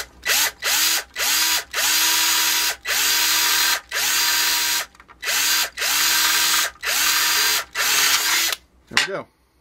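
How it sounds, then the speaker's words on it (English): A power drill bores a hole for a model train layout in repeated short bursts, about nine whirring pulses that spin up and cut off in steady rhythm, loud and close, ending with a brief squeal. "and drill a hole"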